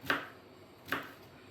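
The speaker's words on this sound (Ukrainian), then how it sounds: "Маленькими кубиками наріжу кабачки." Two sharp knife chops on a cutting board as zucchini is cut into small cubes, spaced nearly a second apart, close and crisp with quiet background between.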